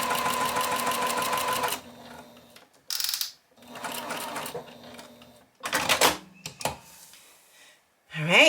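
A sewing machine stitches a quilt block in short, fast bursts with brief pauses between runs, close and fairly loud, ending with a final quick burst.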